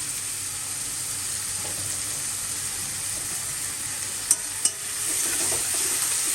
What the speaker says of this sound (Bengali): তো পেঁয়াজটা লাল লাল করে ভাজা হয়ে গেছে